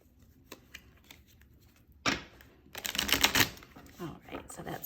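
Tarot cards are shuffled by hand in quick riffling bursts, first sparse soft flicks, then a louder dense run of rapid card slaps near the end, close and alone.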